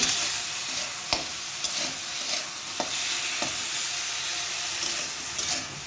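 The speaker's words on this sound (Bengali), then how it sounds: "টমেটোটাকে নেড়ে করে নুন দিয়ে নরম করে নিই" Salted chopped tomatoes stirred in a frying pan for a chutney with coriander and mustard, a steady close sizzle with several distinct scrapes and knocks of the spoon against the pan.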